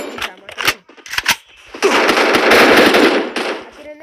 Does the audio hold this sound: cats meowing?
no